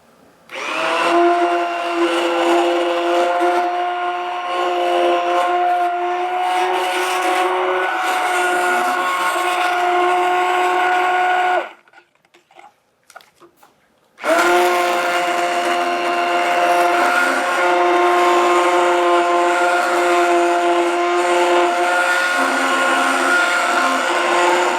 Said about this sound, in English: It does give a scraping sound from the metal on the enamel of the crock pot.